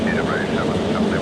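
An Aérospatiale BAC Concorde aircraft climbs after takeoff, a broad, loud engine roar with wavering tones over a heavy low rumble, continuous through the short stretch.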